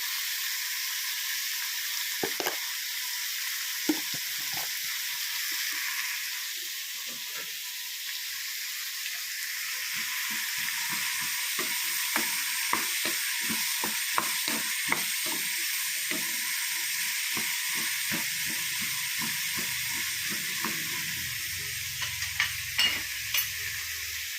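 Pork frying with shallots, masala and curry leaves in a pan, giving a steady close sizzle with repeated stirring scrapes and clinks throughout.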